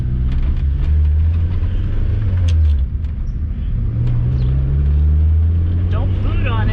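A 1988 Ford Festiva with a touchy clutch on a road drive, heard from inside the cabin: a steady low engine drone and road rumble with a small revving swell, loud and continuous.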